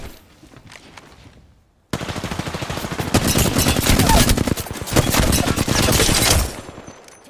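Rapid automatic gunfire in a ranked-lobby shooter video game, a loud sustained burst of shots that starts abruptly after a short quieter stretch and runs several seconds before cutting off.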